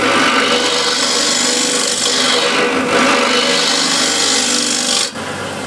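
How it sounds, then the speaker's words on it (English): A spindle gouge cuts the outside of a wooden bowl spinning on a lathe at 1400 RPM, making a loud, steady scraping rasp that continues without pause until the cut ends near the close. "1400 RPM, a spindle gouge."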